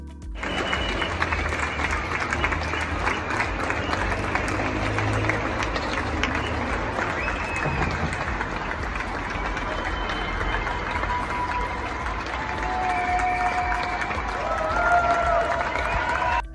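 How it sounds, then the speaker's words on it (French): Evening applause for healthcare workers in Provence during the COVID-19 lockdown, a long, even wash of distant clapping and scattered cheers from neighbours, with faint engine rumble and street noise underneath. "les applaudissements au personnel soignant chaque soir à 20h"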